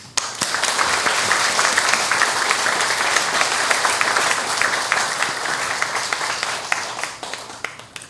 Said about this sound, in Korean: 우리가 함께 귀한 박수 나눴으면 좋겠습니다